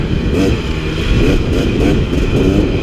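A 2017 KTM 300 XC two-stroke dirt bike on Alpine single track in central Utah, its engine loud and close as the rider brakes and clicks through a gear shift, with a continuous raspy drone and slight changes in pitch.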